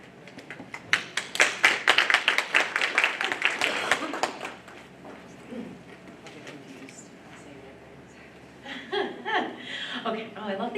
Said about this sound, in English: I love that you clap in between everyone